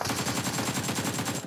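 Rapid, evenly spaced automatic gunfire in PUBG Mobile rattles on continuously at close range, each shot sharp and loud.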